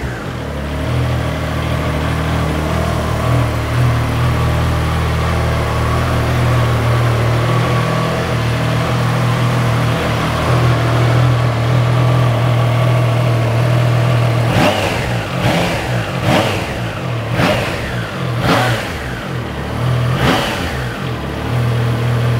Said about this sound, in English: They always sound really good, these Tridents. I have to say, that 660 is really raspy.